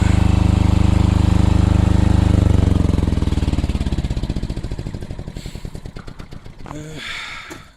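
A 6 kVA portable generator engine is switched off, its loud close drone giving way to a slowing chug as it winds down, followed by a few faint knocks.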